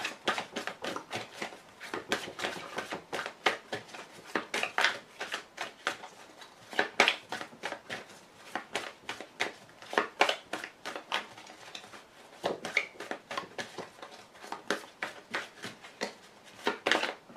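A deck of playing cards being cut and handled for a card reading, with a steady run of quick, crisp taps and riffling snaps repeating close by for a long stretch, fairly quiet, with no talking.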